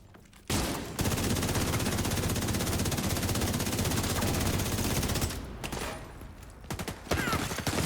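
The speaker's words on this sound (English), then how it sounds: "Suppressive fire's got me pinned." Sustained suppressive gunfire in a video game, a dense rattle of automatic shots that roars nearly nonstop, dips briefly after about five seconds, then bursts back in loud near the end.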